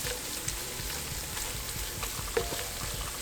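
Bacon frying in a pan on medium heat gives a steady, fairly quiet sizzle with faint crackles and pops and an occasional small clink, running continuously with no voices.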